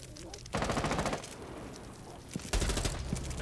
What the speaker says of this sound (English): I was shooting a DMR through